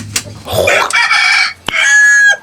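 A rooster crows loudly and close by, a drawn-out call followed by a second crow, with a few clucks and knocks in between.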